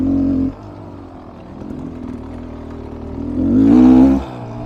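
Beta Xtrainer dirt motorcycle engine on a test ride, a steady close buzzing drone that dips briefly, then swells into a louder rev near the end before settling back down.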